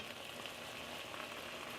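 Beef and onions sear in a soup pot, a soft, even sizzle held steady and fairly quiet throughout, with nothing else heard.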